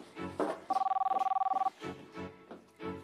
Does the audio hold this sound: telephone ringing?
yes